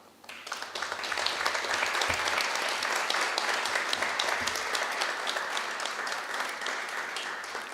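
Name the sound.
audience applause at awards banquet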